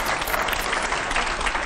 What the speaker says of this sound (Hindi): इसके लिए एक बार फिर से तालियां बनती है